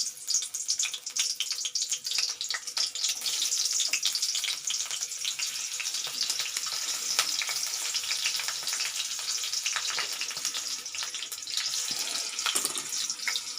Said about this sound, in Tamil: இந்த பச்சை மிளகாவை இப்படி கட் பண்ணி வதக்குங்க